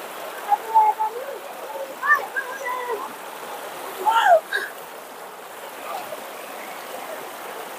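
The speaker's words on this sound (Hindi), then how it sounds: "नदी देख सकते हैं आप" A river flows near a Hindu temple with a steady rushing, watery wash. Faint voices and a few brief sounds rise over it.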